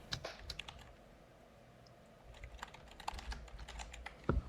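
Typing on a computer keyboard, a quiet scattering of light key clicks in short irregular bursts, close but faint, with a brief lull in the middle and a sharper tap near the end.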